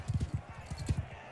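Horse hooves clop in the Mount & Blade II: Bannerlord video game during a battle, quick irregular thuds of galloping at moderate distance, faint, with a voice talking over them.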